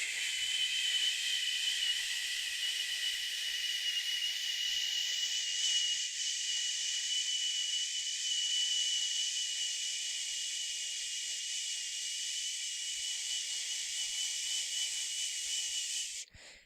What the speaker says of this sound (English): we're going to breathe out with a shh sound